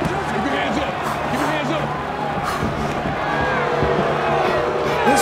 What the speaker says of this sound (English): This Sacramento crowd is getting restless.